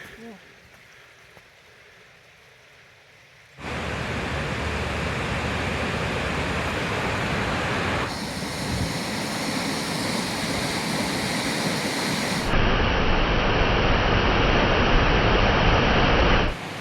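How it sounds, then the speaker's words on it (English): Rushing waterfall roars loudly and steadily as a broadband wash along a snowy winter hiking trail, rising sharply after a quieter opening and continuing unbroken to the end. "looking at waterfalls"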